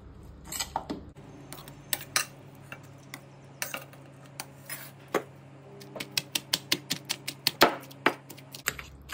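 Ivy gourd chutney is pounded in a traditional stone mortar: sharp, irregular knocks and grinding clacks of stone on stone, fairly close, coming in quick bursts with brief pauses, and no talk.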